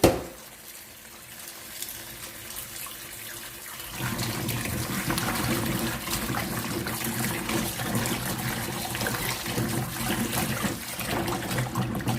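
Mushrooms are washed under running water: a quiet start, then from about four seconds a steady, loud stream splashes continuously to the end.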